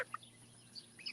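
Backyard chickens in a grassy yard give a few soft, faint clucks and chirps, scattered and distant over a quiet hum.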